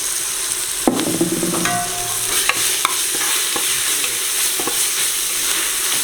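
Ginger and garlic sauté in a pressure cooker for Tamil-style turkey biryani, a loud steady sizzle broken by metal spoon scrapes and a clanking stir near the start, close up with no talking.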